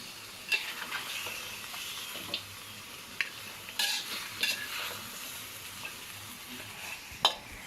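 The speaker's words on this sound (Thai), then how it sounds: "เมื่อเราทอดได้สักพักนะครับ" Steady sizzling of pork ribs frying in an iron wok, with scattered clinks and scraping from stirring; no voices.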